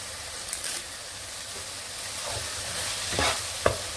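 Ground garam masala with cardamom, cinnamon and three bay leaves sizzles in hot oil in a pan, with a steady frying hiss and a few scraping stirs close by.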